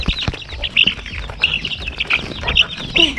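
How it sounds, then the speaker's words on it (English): A crowd of chickens at their night roost on a farm clucking and chirping in repeated bursts over a busy, noisy outdoor background, close and fairly loud. "So this is where chicken normally sleep. Yeah, guys. And hey, lots of chicken."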